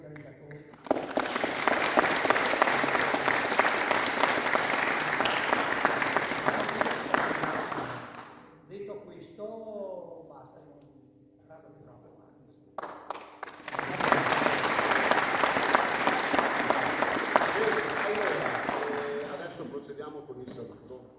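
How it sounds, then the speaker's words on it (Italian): A hall audience at an aikido seminar in Vittorio Veneto applauds the organizers in a long, dense burst of clapping, pauses while a voice speaks, then breaks into a second sustained round. "E vorrei anche fare un applauso agli organizzatori."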